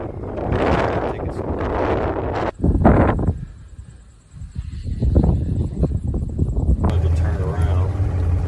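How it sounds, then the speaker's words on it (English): Gusty wind buffets the microphone on a fishing boat in a windy creek, roaring loudly in bursts while people talk over it. "We are in the creek and it is windy,"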